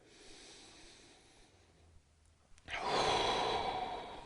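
Controlled yoga breathing during a beginner upper-body session: a quiet, soft exhale, a short pause, then a louder, airy breath drawn close to the microphone.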